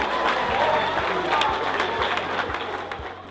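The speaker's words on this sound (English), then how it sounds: "Give her a round of applause" A crowd at a youth entrepreneurship summit applauds a competition winner, with dense clapping and some cheering that stays loud before easing slightly at the end, and a voice faintly audible beneath it.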